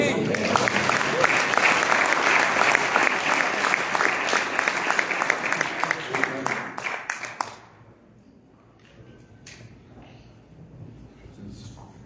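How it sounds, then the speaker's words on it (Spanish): A congregation at a citizens' prayer congress claps in a loud, full burst of applause that thins into scattered claps and dies away, leaving quiet room tone. "Un aplauso"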